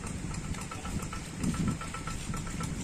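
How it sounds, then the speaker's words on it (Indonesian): A tractor engine runs roughly on stony farmland, a steady low rumble with uneven knocking pulses that swell briefly midway, close and continuous with no voices over it. "Mesinnya betot."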